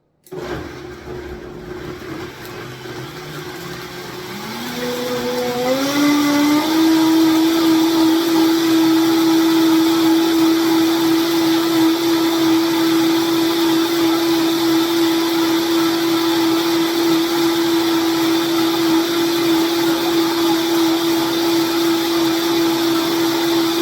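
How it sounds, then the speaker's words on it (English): A Vitamix high-powered blender purees a mango lime dressing, its motor spinning up over the first seconds and then holding a steady, loud roar that runs on with no talk. "It's going to get loud when you're using a Vitamix."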